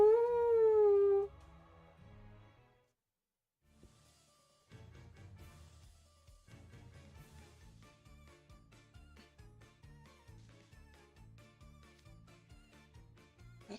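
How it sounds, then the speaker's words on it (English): A dog character in the video game Twisted Wonderland gives a loud rising howl, then falls quiet before soft game music and faint effects play on. "Bark more slowly."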